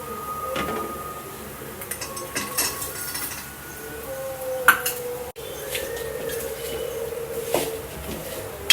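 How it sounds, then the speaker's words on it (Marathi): A spoon stirs mango murabba with jaggery in a metal pot, giving close, light scraping and clinking against the pot with occasional sharper knocks over a steady background. "पूर्ण मेल्ट होईपर्यंत आपण हलवत राहूया"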